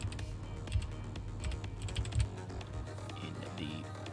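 Quick, uneven keystrokes tap on a computer keyboard, clustered in short runs over a low steady hum, close and moderately loud.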